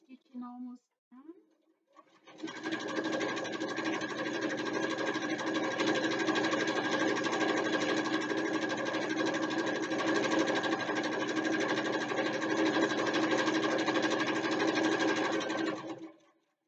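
Sewing machine top stitching a bookbag backpack runs in one long, steady, close-up whir for about fourteen seconds, after a brief bit of talk at the start.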